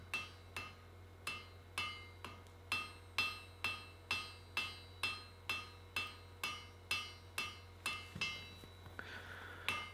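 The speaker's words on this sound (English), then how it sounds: "Where possible, the hammer will stay in the same place over the anvil, and I will just move the work accordingly." Hammer blows forging steel shears on an anvil ring out in a steady, evenly spaced series of about twenty sharp, bright metallic strikes, close and loud with no talk, ending in a brief scrape.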